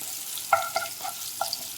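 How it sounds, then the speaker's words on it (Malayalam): Sliced onion rings and curry leaves crisping in hot oil, a soft steady sizzle broken by a few light scraping stirs close by. "കറിവേപ്പില കൂടി ഇടുക."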